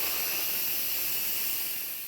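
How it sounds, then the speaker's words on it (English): Steam hisses out of a pressure cooker used for bone broth, a loud continuous close-up jet of air that holds steady and begins to taper slightly at the end. "After that 3 to 4 hours time frame in the pressure cooker, we can turn it off and let out the steam."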